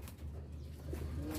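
Pigeons coo softly at close range in a short burst, with low throaty rolling calls and faint rustling behind them.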